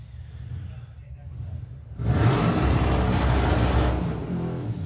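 A Ford Cortina drag racing car roars off the line at a nostalgia drag strip, a loud broadband engine blast that surges in suddenly and holds steady, with an announcer talking faintly underneath.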